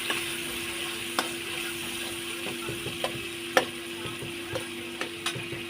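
Ground cumin, chili, salt and turmeric frying in oil in a wok for khichuri, a steady close sizzle broken by sharp clicks and scrapes of a stirring spoon, with no voices.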